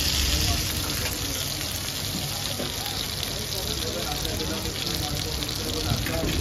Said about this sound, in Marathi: भेजा फ्राय हा मित्रांनो तव्यात बनतो